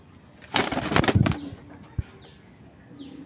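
Pigeons in a cage give a short, loud burst of flapping wings lasting under a second, then a single sharp knock, with soft rustling in the quiet that follows.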